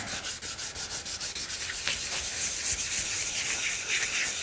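Wood is hand-sanded through the grits with steady back-and-forth rubbing strokes, first in a clear rhythm, then as a continuous dense rasp, close and fairly loud.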